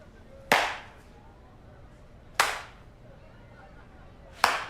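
A slow clap: three loud, sharp single hand claps spaced about two seconds apart, each with a brief ringing tail, over a quiet background.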